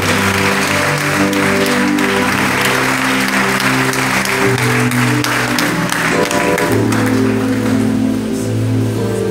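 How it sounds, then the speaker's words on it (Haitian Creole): A church congregation applauding loudly and continuously at a revival gathering, dense clapping filling the room alongside sustained musical tones. "Applaudissez plus fort, s'il vous plaît."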